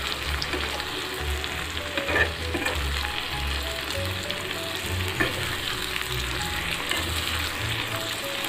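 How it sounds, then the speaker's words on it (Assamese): Olive pickle frying in a pan gives off a steady, close sizzle with soft stirring scrapes and occasional light pops, continuing evenly throughout with no voices. "এতিয়া মই বেছি টাইম নাভাজোঁ, 10 মিনিটমান ভাজিম"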